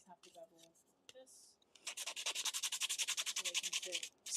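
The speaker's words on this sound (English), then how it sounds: "Sanding the down edges" Wooden pieces are sanded along their edges to bevel them, producing a fast, rhythmic run of scratchy back-and-forth strokes, close and loud, after a few quiet spoken bits at the start.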